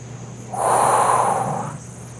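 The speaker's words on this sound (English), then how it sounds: "Breathing in and out." A single long breath, soft and airy, swelling for about a second over a steady low hum, close to the listener with no talking.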